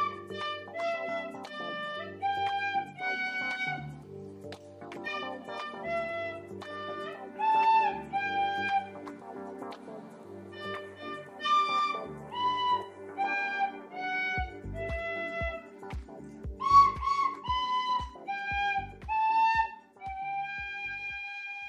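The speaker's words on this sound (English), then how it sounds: "I'll be playing Happy Birthday to You with the pen whistle." A penny whistle plays the Happy Birthday melody alone, with clear sustained notes and a steady tune over a faint background tone. Light tapping joins toward the end.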